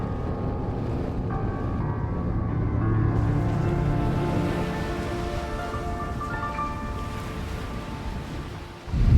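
Aboard a sailboat at sea in bad weather, wind and waves rush continuously around the hull, a steady broad wash with faint tonal hums and whistles running through it, ending in a sudden louder splash.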